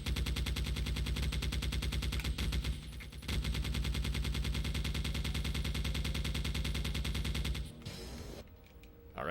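A video game defense turret fires on and on in a dense, rapid mechanical rattle, loud and steady. It breaks off briefly once, then fades into quieter clatter at the end.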